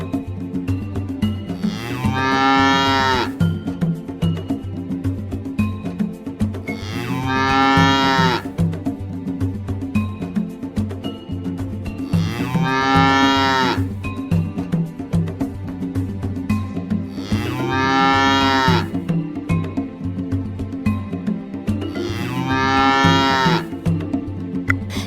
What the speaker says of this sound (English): do you know what a cow says? A cow says